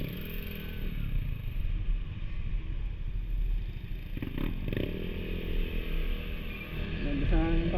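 A motorcycle with an aftermarket exhaust revs on a road in Nueva Ecija, with a steady engine drone running close and loud throughout and a brief rise in revs partway through, alongside traffic noise.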